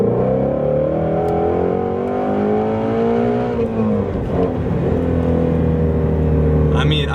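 A Shelby GT350 V8 revs up to about 7,000 rpm while driving, a loud rising engine howl that climbs steadily, drops briefly at a shift, then holds a strong drone under someone talking.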